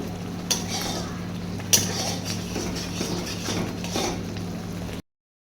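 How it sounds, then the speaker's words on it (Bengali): A spoon stirs momo chutney sauce in a pan, making soft scraping swirls close by with a few sharp clinks against the metal, then stopping abruptly into silence. "এইভাবে নাড়তে নাড়তে একটা সময় দেখবেন চাটনিটা অনেকটা গাঢ় হতে শুরু করেছে"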